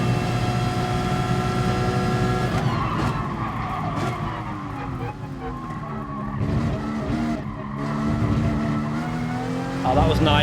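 A race car in the video game GT Sport accelerates with a loud, steady engine roar that climbs and drops through gear changes, with tire noise mixed in and a voice talking over it.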